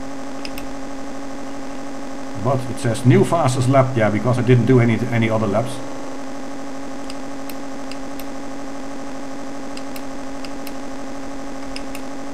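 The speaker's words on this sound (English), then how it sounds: "I'm talking right off the nice digitized engine sound." The Atari ST game RVF Honda's digitized motorbike engine hums as a steady, buzzy tone throughout, partly under a man's speech in the first half, then continuing alone at an even level.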